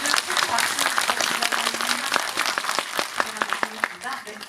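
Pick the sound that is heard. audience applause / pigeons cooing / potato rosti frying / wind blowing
audience applause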